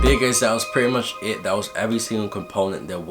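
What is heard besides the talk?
No distinct noise like a dog, phone or traffic.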